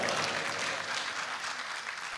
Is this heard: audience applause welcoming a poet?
yes